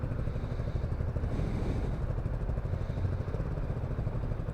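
A tidy motorcycle fitted with an aftermarket exhaust and wide tyres runs steadily nearby, its engine giving a continuous, rough, throbbing drone that stays even throughout with no talking.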